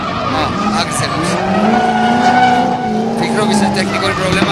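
A drift car in a King of Drift competition round accelerates hard, its tires squealing and its engine roaring loudly while a commentator talks over it.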